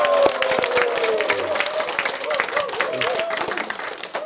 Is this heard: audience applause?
yes